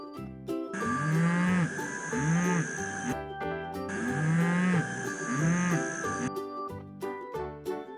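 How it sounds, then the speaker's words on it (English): Two long, low moos from an ox sound effect on a children's farm animal toy set, each repeated in a pair of swelling calls under a sustained musical tone, with brief tinkling notes between. "Can you make a low moo like Oscar?"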